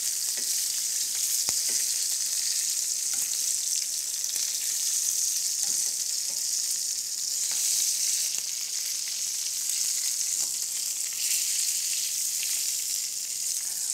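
Lamb chops browning in a hot pan, a steady close sizzle and spitting fat that continues throughout with occasional sharp pops and faint clinks, no speech.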